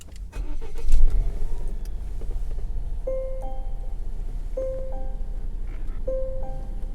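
A 2017 Volvo XC90 T6 Inscription engine starts with a brief loud burst, then idles steadily close by while a short electronic chime repeats three times at even intervals.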